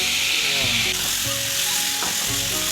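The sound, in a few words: tomatoes and potatoes added to sizzling meat in a pan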